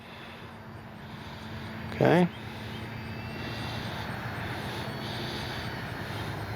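RC model airplane flying low over a runway, a steady droning engine buzz running throughout with a brief louder swell as it passes close; a voice speaks a single word.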